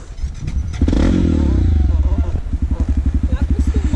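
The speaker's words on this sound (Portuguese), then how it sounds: "Você tá freando a moto" A motorcycle rides downhill on a dirt trail while braking, its engine giving a loud, close rumble that settles into a rapid pulsing putter in the second half.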